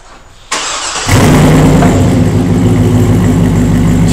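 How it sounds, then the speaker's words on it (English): A 6.0L GMC Trailblazer SS with a Flo Pro Max performance exhaust cranks briefly, catches, and settles into a loud, steady, deep idle rumble close by. "We're going to fire it up, listen to it again at idle"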